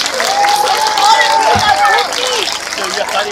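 An audience applauds school children from Otherthorpe, Purwell and Warwick Road at the Batley Iftar community gathering. The clapping is steady and dense, mixed with crowd noise and a sustained whistle-like tone, with no pause.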